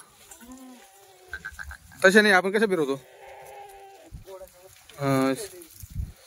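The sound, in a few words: goats bleating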